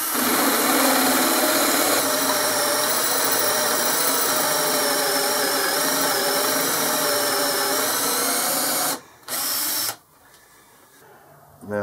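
A 6.5mm drill bores into a cam vice handle, giving a steady, loud machine whine with a constant pitch. It runs without a break for about nine seconds, then cuts out briefly and returns more faintly.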